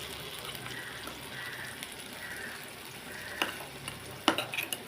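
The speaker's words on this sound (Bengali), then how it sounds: "পেঁয়াজ, সর্ষে সব দিয়ে এটাকে কষাবো" Onion and mustard stir-frying in a pan, a quiet steady sizzle broken by a few louder scraping and stirring clatters near the end.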